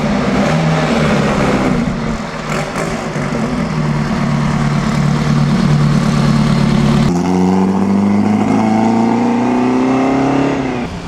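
Classic BMW cars in the Mille Miglia rally pass close by in a loud, sustained engine roar, one rumbling drone giving way to another rising, revving engine as the next car approaches.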